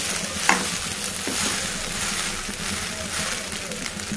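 Rice is stirred into a frying potato and garlic mix in a pan, a steady sizzle with scraping spatula strokes and a sharp clink near the start, close and without speech.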